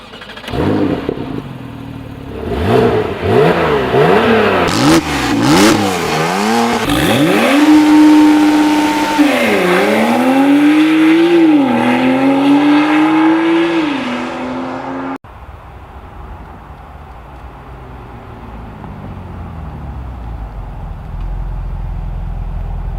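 A 2018 Porsche 911 Carrera GTS with a 3-liter twin-turbo flat-six and 7-speed PDK revs hard in Need for Speed, the engine note rising and falling through quick shifts, then cutting to a quieter low rumble.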